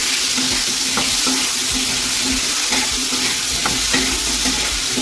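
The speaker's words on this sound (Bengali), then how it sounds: "এখানে একবারে নুন হলুদ দিয়ে পটল আলু একসাথে ভেজে নিচ্ছি" Pointed gourd and potato fry together with salt and turmeric in a pan, making a loud, dense, continuous sizzle with occasional light knocks of stirring and no voices.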